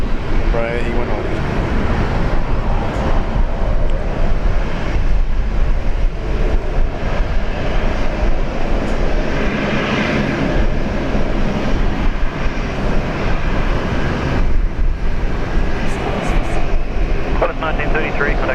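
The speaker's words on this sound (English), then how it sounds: "Embraer E190." An Embraer E190 airliner, a Qantas departure, takes off at Brisbane airport with a loud, steady roar of jet engines throughout, while voices talk over the noise.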